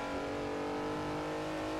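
Old sports car engine revving steadily in a VR sim racing game on the Nordschleife, a dense sustained drone with a strong low hum and bright harmonics, loud and continuous throughout with no talk.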